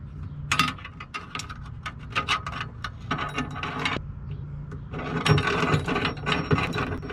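A ratchet wrench tightening a nut onto an eye bolt for a homemade Nissan Frontier bed tie-down, rapid clicking bursts in several runs with brief pauses, close and loud with no speech.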